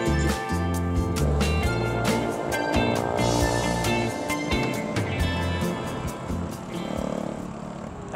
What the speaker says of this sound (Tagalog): Ingay na motor ni Vicky.